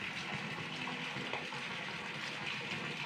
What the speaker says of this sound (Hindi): और पानी भी देखिए ऐसे गिरते रहता है।